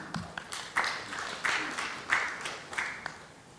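Scattered applause from an audience at a teachers' workshop in Korea, a few hands clapping in loose bursts that swell and fade over several seconds, fairly faint in a lecture hall.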